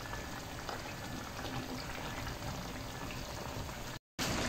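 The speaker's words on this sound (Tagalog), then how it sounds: "Pasulakan lang natin siya ng medyo matagal na konti para medyo lumambot yung karne." Pork steak simmering in a pot of water, a steady, dense bubbling boil that runs continuously and close up, with a brief dropout near the end and no talking.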